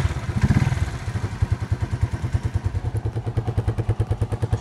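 An Italika FT 125 classic motorcycle runs with an even, steady exhaust putter of regular low thumps, close by and moderately loud, after a brief louder burst at the start. No one speaks.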